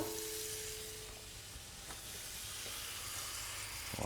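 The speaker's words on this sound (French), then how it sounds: "Donc on met un peu d'eau" Water poured from a container into a baking mould to make a bain-marie for a venison terrine: a soft, steady hiss of running liquid, fairly quiet and close, with no talking.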